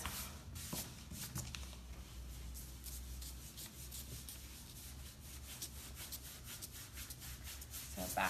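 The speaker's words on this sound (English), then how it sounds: "I'm gonna put a little more wax on this." A stiff oval brush working furniture wax into a surface with back-and-forth strokes, producing soft repeated scrubbing and rubbing swishes at close range, quiet and fairly continuous, with no talking.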